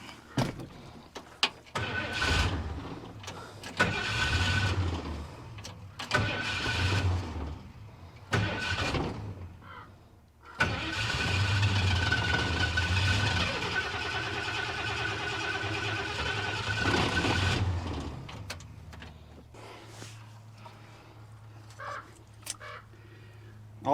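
A 1976 Ford F250 crew cab truck, abandoned for 20 years, cranks repeatedly in several bursts of starter whirring separated by pauses, including one long sustained crank attempt, with no sign of the engine catching.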